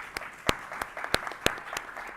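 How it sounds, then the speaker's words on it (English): Applause from a conference audience after a panel on Tax Inspectors Without Borders, heard as a faint, short burst of scattered hand claps with distinct sharp peaks over a soft, steady patter. "A round of applause again."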